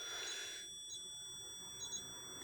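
Faint electronic alarm from a smoke detector or fire alarm indoors, a steady shrill tone that cuts off early, then a few short beeps.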